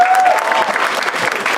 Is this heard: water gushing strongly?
no